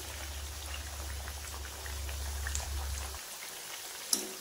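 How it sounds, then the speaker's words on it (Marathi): Alu vadi frying in hot oil over a medium gas flame gives a steady soft crackle and bubbling hiss, close and even, under a low background hum that stops partway through. "त्यासाठी आपण छान असं मीडियम गॅसवरची हलकीशी तळून घ्यायची."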